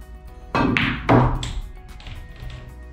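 Pool cue strikes the cue ball in a straight-in eight-ball shot, two sharp knocks a half second apart followed by a fainter click as the eight drops, close and clear with no talk.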